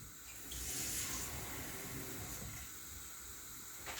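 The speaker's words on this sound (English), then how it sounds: "So I'm going to add another batch of water in." Water pours steadily into a paella pan of thick rice, beans and vegetables, a soft continuous hiss and splash that swells at the start and then settles, with no talk over it.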